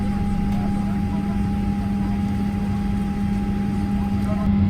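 An airliner's steady, loud cabin rumble and engine drone while taxiing to the runway, a constant low roar with a faint tonal hum and no breaks.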